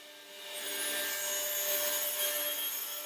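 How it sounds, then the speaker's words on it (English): A saw cuts through wood for sofa frame parts in a Chinese furniture factory, making a close, continuous rasping stroke that swells and holds for a few seconds. "Large parts, like the lower section of a sofa frame, are simply cut with a saw"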